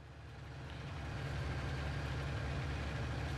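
A tractor engine in Farming Simulator 19 running with a steady low diesel drone that swells slightly louder over the first second and then holds, no voices.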